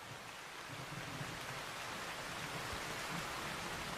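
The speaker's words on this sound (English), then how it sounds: "As the rain falls even harder" Heavy rain falls in a forest, a steady, even hiss of drops on leaves and ground, fairly quiet and continuous with no voices.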